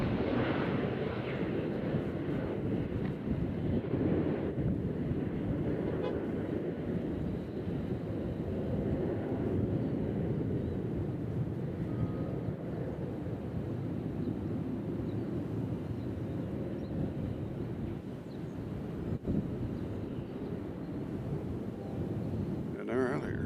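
A United airliner at Nashville International Airport gives off a continuous broad roar that swells and fades slightly, mixed with wind rumble on the microphone.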